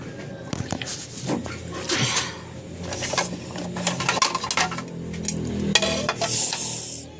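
Food being put onto a plate at home, with light clinks and scrapes of dishes and utensils coming in irregular bursts, close and moderately quiet, alongside background room noise.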